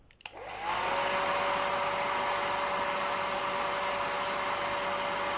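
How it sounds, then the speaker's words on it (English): A hair dryer on a low setting clicks on and settles into a steady, even whooshing blow with a faint whine, running continuously and fairly close. "I put a hairdryer on a lower setting."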